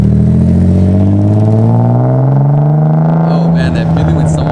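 A Nissan 300ZX engine hums steadily at close range with a low droning tone that slowly rises, like a vehicle cruising, with faint clatter near the end.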